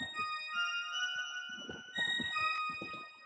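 Bell synth pad in FL Studio with most bell presets removed, holding a faint, sustained set of high ringing tones that shift slightly partway through, alongside soft low murmurs.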